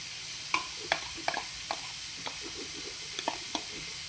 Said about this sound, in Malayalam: നമ്മുടെ മുട്ട നമ്മൾ സാധാരണ മുട്ട ഓംലേറ്റിന് അടിക്കണ പോലെ തന്നെ കേട്ടോ ഒഴിച്ചു കൊടുക്കുക.